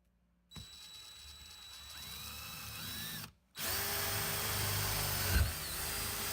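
Power drill boring a hole through a door for a dog door, two whining bursts separated by a brief pause, loud and close with no talk.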